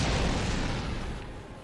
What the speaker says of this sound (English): that explosion looked horrible